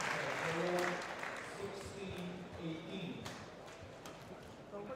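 Badminton crowd at a men's doubles semi-final of the 2013 German Open applauding a long rally, a faint patter of clapping that fades under a commentator's voice.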